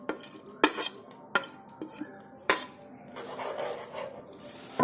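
Cashews and coconut pieces being stirred in a metal pot, with several sharp spoon scrapes and clinks against the rim at irregular intervals, then a softer rustling stir, close by and without talk.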